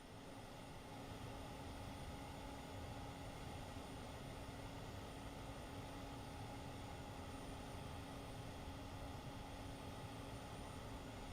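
Auxiliary power unit of an Airbus A320neo spooling up in Microsoft Flight Simulator, a faint steady whine and rushing hum that starts after a second and holds evenly, with rain ambience in the cockpit.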